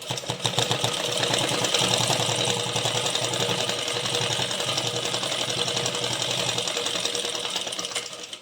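Sewing machine stitching a blouse sleeve: a close, continuous rapid clatter of the needle and motor hum running for several seconds before tapering off, with no voices.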